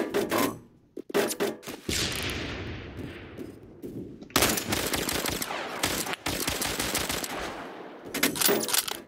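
Automatic gunfire from the online shooter game Phantom Forces comes in loud rapid bursts separated by short gaps, with sustained rattling fire and echoing tails between volleys.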